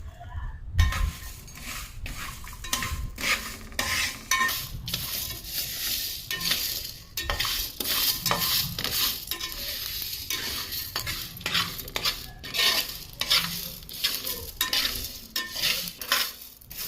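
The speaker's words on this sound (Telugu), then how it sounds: "ఇప్పుడు ఎండు కొబ్బరి, ఇలాచి, లవంగా, దాల్చిన చెక్క ఇవి కూడా వేసుకొని ఫ్రై చేసుకోవాలి." Dry coconut, cardamom, cloves and cinnamon fry in a pan for fish curry spice powder, with steady close sizzling and constant stirring scrapes and clinks of a spatula against the pan, and no talking.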